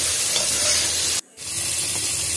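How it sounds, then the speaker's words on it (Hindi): Masala with coriander, mint and birista fries for tikka biryani with a steady, close hiss and sizzle, broken by one brief near-silent gap. "इसे पूरी तरह से भून लेंगे"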